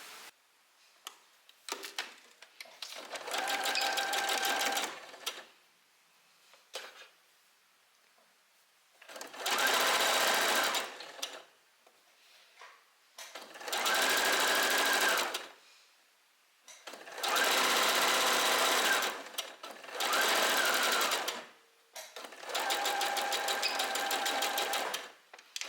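An overlocker stitches the seams of a fabric top in six whirring bursts of several seconds each, separated by short quiet pauses with faint clicks.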